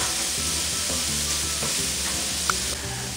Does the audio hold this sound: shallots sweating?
yes